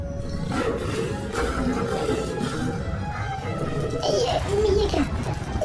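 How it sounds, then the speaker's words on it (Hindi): A lion roars loudly in a dense forest scene of a Hindi horror story, a rough sustained roar rising near the end, with voices talking over it. "ये तो शेर की आवाज है।"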